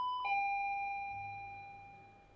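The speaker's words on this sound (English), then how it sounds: "I wake up to the sound of the doorbell." A doorbell rings in the video game Ghostpia: one clear electronic chime strikes and its bright tone fades slowly into quiet.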